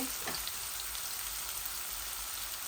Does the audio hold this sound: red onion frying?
yes